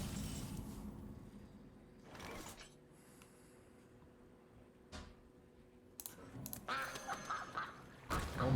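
Mother Duck card from the Hearthstone game gives a few crisp, clear duck quacks, set over quiet game ambience and interface clicks, with no voices.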